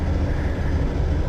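A 1978 Ford LTD engine idles steadily and close, a broad low rumble carrying a faint continuous rattle, with no voices.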